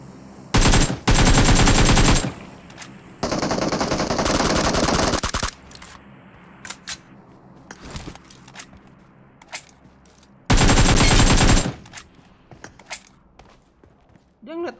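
Automatic gunfire in PUBG Mobile solo mode on the Livik map comes in three loud, sustained bursts of rapid shots. Quieter stretches between them hold faint footsteps and creaks.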